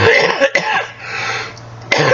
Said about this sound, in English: change in the weather made my coughing worse